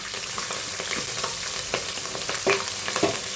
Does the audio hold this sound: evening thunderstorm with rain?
no